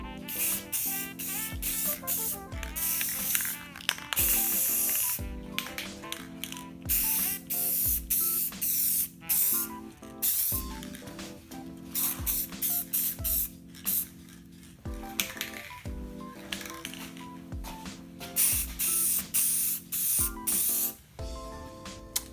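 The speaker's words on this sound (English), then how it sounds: "we'll do a quick mist coat and then spray it on heavy" Spray can applying clear coat to a lighted S10 emblem, a series of sharp hissing bursts of varying length separated by brief pauses, close and loud throughout.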